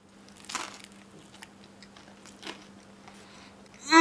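Bites into chocolate-covered toast give short crunchy bursts near 0.5 and 2.5 seconds, with quieter chewing between, close and fairly faint under a steady low hum.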